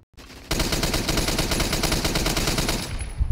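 Rapid automatic gunfire through a wall in a shooter video game, a dense, loud burst of evenly spaced shots lasting about three seconds after a brief quiet start.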